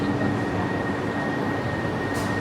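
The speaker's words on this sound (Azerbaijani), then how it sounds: "Ona görə biz metro xəttinə düşmüşük." A metro train on the Rome subway rumbles steadily through a station, a broad continuous roar with a thin sustained whine running over it, close and unbroken for the whole stretch with no voices.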